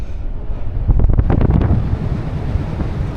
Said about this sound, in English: A lot of wind that's gonna come at us.